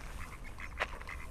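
A duck quacks on the Przymorze coast among wild waterfowl, with a drake and duck together: scattered soft calls and one louder, sharper quack near the middle, fairly close over a low outdoor background.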